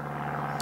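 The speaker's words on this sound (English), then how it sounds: "it's just a small aeroplane going across." A small propeller aeroplane drones overhead as a steady low hum with a tonal buzz, faint and distant, heard in a brief stretch.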